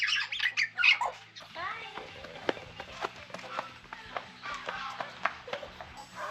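Birds squawk shrilly in a burst of harsh calls at the start, then scattered sharp taps, rustles and footsteps follow at close range, with a voice faintly mixed in.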